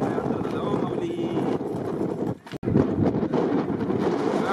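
Horses and bullock carts race across an open field in a bullock cart race, hooves clip-clopping in a rapid, dense rhythm amid strong wind buffeting the microphone, with a brief dropout partway through.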